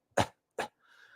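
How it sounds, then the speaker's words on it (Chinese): A person coughs twice in quick succession, two short sharp close bursts followed by a faint trailing sound. "就是这个叫咳嗽 cough"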